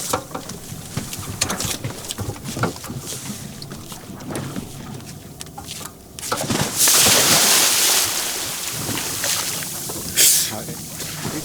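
A boat motor runs at sea off Iceland, a steady low drone under wind buffeting and splashing, with a louder rushing patch midway and people talking over it.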